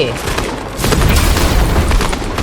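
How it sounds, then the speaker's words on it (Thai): Gunfire in a Fortnite match: a loud, dense spread of overlapping shots and booming impacts, strongest in the second half, with voices talking over the firing. "ข้างในยิงอะไรกันอยู่วะ"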